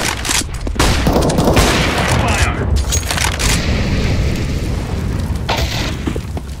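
Grenade explosions and gunfire in the video game CS:GO, heard as loud, booming blasts over rapid shooting that runs through the whole clip, with no speech.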